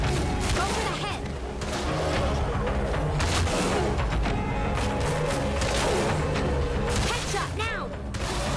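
Gunfire in State of Decay 2 as zombies are shot in a lethal zone, with sharp, loud shots and booming bursts in an irregular rhythm over a dense background of game noise.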